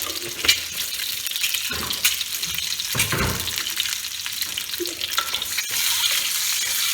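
Bay leaves frying in hot oil for egg korma, a bright, continuous crackling sizzle close to the pan with a few soft clinks, no talking.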